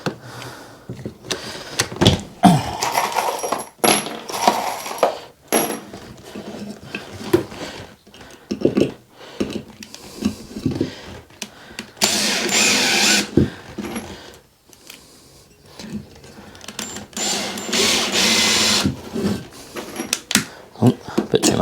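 A power drill bores angled holes in wood for shed furniture, whirring in short uneven bursts with knocks and handling noise between them, while a person talks now and then.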